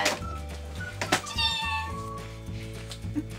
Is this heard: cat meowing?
yes